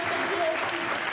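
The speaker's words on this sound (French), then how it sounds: "on peut l'applaudir." Applause from attendees at a founding general assembly welcoming a new team member, a short dense burst of clapping with a voice speaking over it.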